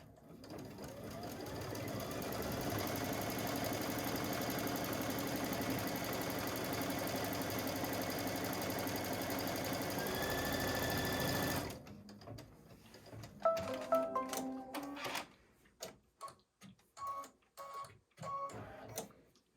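Sewing machine stitching a flip-and-stitch baby quilt block, running in a steady loud mechanical whir for about twelve seconds, then stopping into scattered clicks and handling sounds.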